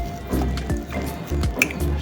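Ripe plantain chin chin dough being worked by hand with water added little by little, giving close, wet squishing and sticky kneading sounds in repeated pulses with faint dripping.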